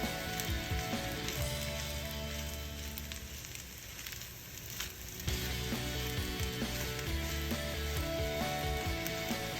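Vegetable fried rice sizzling in a pan over a low flame, a steady frying hiss with faint stirring scrapes and a brief dip before the sizzle resumes.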